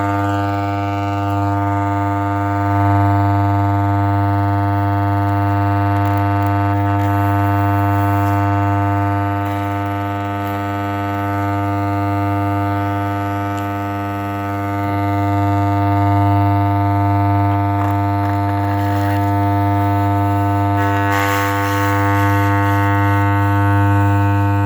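A KEF 104/2 woofer under repair plays a steady low tone with dense stacked harmonics, continuing unbroken alongside a running vacuum while paper is pushed inside, with loudness swelling and easing slightly over the whole stretch.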